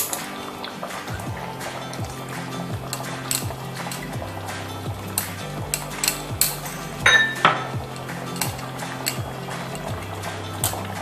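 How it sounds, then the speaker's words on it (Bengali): Ghee going into a Bengali-style prawn curry (chingri kalia) in a pan, with close, irregular clinks of a metal spoon against the pan and soft liquid movement, and no talking. "আর আমি দিয়ে দিচ্ছি গাওয়া ঘি।"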